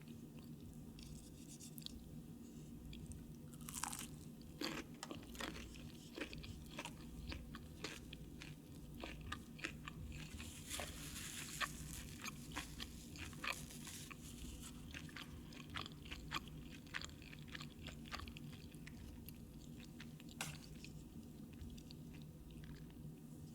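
Someone eats Raising Cane's chicken tenders and fries close to the mic, with steady chewing, biting and occasional crisp crunches running throughout over a soft background hum.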